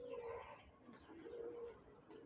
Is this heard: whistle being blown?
no